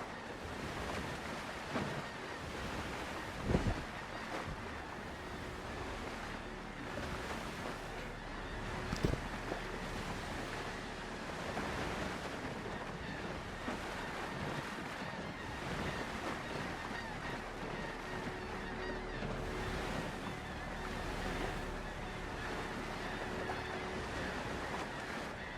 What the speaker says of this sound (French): les vagues elles sont grosses ici